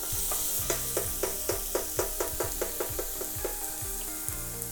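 Onion softening in a pan for a vegetable tagine with chickpeas, sizzling steadily and close by, with a regular run of soft stirring scrapes and taps throughout and no talk.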